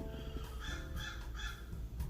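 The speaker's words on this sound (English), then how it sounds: "And the crows think so too. Did you hear that? Must be right outside my window." Crows caw just outside a window, several hoarse calls in quick succession, fairly faint and distant with no talk over them.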